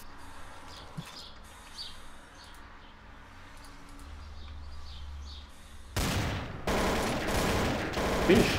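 Gunfire in the video game Trouble in Terrorist Town bursts in loudly after several seconds of quiet ambience with faint chirps, then continues as a dense, sustained volley.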